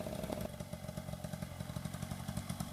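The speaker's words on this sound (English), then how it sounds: "This is my dad going down on the Kawasaki 80cc." A Kawasaki 80cc trail bike rides down a steep hill, its small engine buzzing with a rapid, uneven putter at moderate distance, steady and unbroken with no voices.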